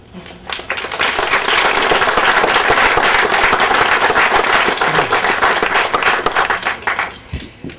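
Sustained applause from an audience at the St. Aidan dedication ceremony in Brookline, Massachusetts, welcoming a co-host to the podium; dense, steady clapping swells quickly and holds for several seconds before tapering off.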